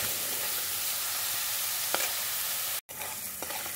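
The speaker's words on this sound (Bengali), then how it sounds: "এটা খুব বেশি লাল লাল করে ভাজবো না, জাস্ট একটু গোল্ডেন কালার হয়ে যাবে, ট্রান্সপারেন্ট হয়ে যাবে" Onions fry in hot oil with a steady close sizzle, broken by a few scraping stirs of a spoon in the pan and one brief cut, with no talk.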